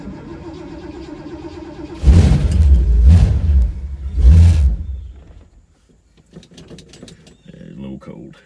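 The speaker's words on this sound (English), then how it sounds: "This hasn't been started in a week. Should fire right up though." A Ford Torino that has sat for a week cranks and catches, a loud close grinding start with three surging bursts before it settles into a low idle, with a voice and light clinking around it.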